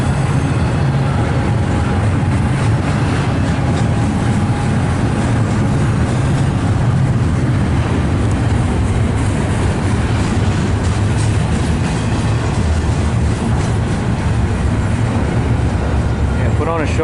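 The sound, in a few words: train passing at full throttle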